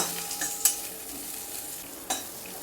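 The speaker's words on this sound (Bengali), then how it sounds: "কুমড়ো আর সজনে ডাটাটা একটু নেড়ে নিচ্ছি" Quiet stirring of thinly sliced pumpkin and drumstick with turmeric in a frying pan over a steady soft sizzle, with a couple of sharper scraping clicks from the utensil.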